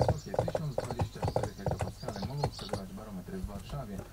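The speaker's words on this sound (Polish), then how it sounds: "Bardzo mi się podoba to tupanie tego konia" Horse hooves clip-clop in quick, even steps in a Barbie horse-riding video game, joined by an occasional neigh, clear and close with game music underneath.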